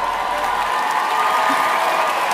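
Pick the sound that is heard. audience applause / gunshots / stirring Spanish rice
audience applause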